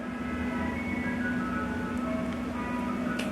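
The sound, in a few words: ice cream truck jingle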